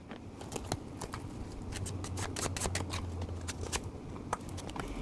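Tarot cards being shuffled and handled to draw one, a steady papery rustle with repeated crisp snaps and flicks, close and fairly quiet, with no talking.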